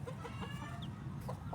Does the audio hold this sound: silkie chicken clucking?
yes